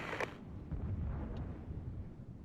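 Mortars fire in the battlefield video game Regiments: a sharp burst at the start, then a dense, steady low rumble of distant impacts and battle noise.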